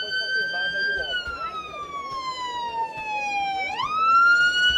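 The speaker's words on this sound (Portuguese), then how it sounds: "Lá vem outra ambulância, né?" An ambulance siren wails nearby with a long, slowly sliding tone that dips and then sweeps sharply back up, loud over faint street noise.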